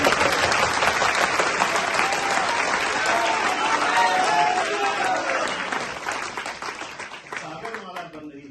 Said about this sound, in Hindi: तो जरा जोरदार तालियां तो विजयमाला के लिए।